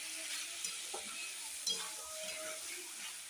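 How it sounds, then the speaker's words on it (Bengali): Chopped onion, green chilli and tomato are stirred in a frying pan, giving a faint, steady hiss with soft scrapes and one light clink of the spatula, close by and without talk. "পেঁয়াজ কুচি, কাঁচা লঙ্কা, টমেটো সব একসঙ্গে দিয়ে দিলাম, দিয়ে আবার নেড়ে দিচ্ছি সুন্দর করে।"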